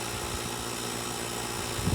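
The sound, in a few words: truck engine idling in freezing cold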